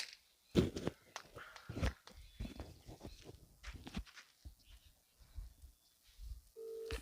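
A telephone rings with an incoming call in a village home. A short, steady electronic ring comes in at the very end, after a stretch of thumps, footsteps and rustling movement.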